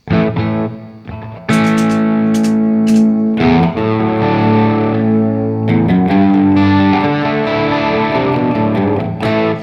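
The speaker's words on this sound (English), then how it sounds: "here's what the detune sounds like, just by itself" Sustained electric guitar chords with a wavering, doubled detune effect and some grit, played alone in a few strummed phrases with short breaks.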